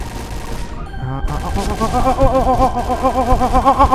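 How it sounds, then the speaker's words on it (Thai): Gunfire in the video game Point Blank: a loud, fast automatic burst with rapid repeating reports that starts after a brief pause and continues steadily under a faint voice. "ฮอป เห็นเมื่อไหร่ยิงทันที"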